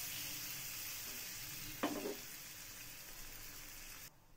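Ragi vegetable pancake frying in butter in a hot pan, a steady soft sizzle throughout with a brief louder scrape or stir partway, then cutting off near the end.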